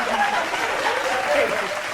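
Applause from a crowd at a comedy or satire show, steady and dense across the whole stretch, moderately loud with no clear pauses.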